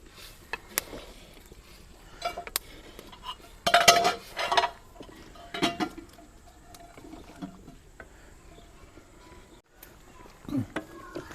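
A metal spoon scrapes and clinks against a pot while semolina halwa is stirred, with scattered knocks and a brief louder burst of clatter in a quiet kitchen.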